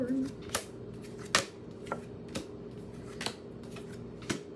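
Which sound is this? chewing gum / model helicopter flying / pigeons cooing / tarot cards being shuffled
tarot cards being shuffled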